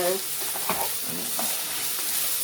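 A spoon stirs beef stroganoff with mushrooms in a pan, with soft scraping strokes over a loud, steady sizzle of frying close up.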